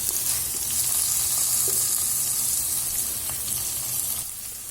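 Curry leaves, coriander and mint sauté in oil in a pan while a chicken roast is prepared, giving a close, steady crackling sizzle with soft stirring scrapes and no talking.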